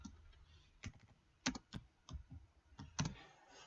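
Several sharp key clicks on a computer keyboard, typed in quick irregular bursts as a key combination, fairly close and quiet with no talking.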